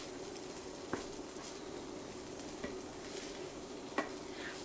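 Fish pastilla filling with coriander is stirred in a pan, a soft continuous shuffling with a faint sizzle and three light clicks of the utensil, quiet and close with no speech.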